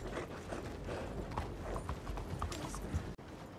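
Horse hooves clip-clop at a rapid gallop during a slide in the Red Dead Online video game, a steady close drumming with faint mechanical clatter and no talk.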